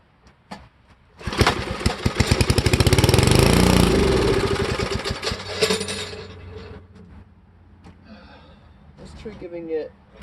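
A vintage Parker thatcher engine cranks and catches, roaring loudly for several seconds with a rapid pulsing beat before settling into a quieter, uneven idle, with brief voices near the end.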